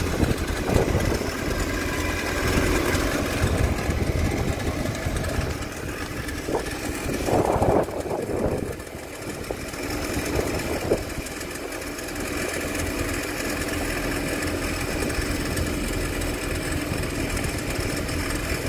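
A Yamaha FZ-R 1800 SHO personal watercraft engine idles steadily for a long stretch, a continuous mechanical whir with slight knocking, close and even, no voices.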